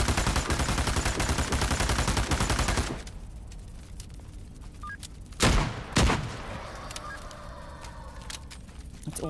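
Shotgun blasts and gunfire in a cooperative shooter video game: a dense, loud volley of shots, then a quieter stretch broken by two sharp, heavy booms close together.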